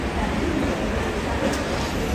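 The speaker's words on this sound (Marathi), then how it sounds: "ही कोणती ट्रेन होती ती गेली" A train passes through a station at night, a low rumbling wash of rolling wheels and carriages under general background noise, with no distinct horn.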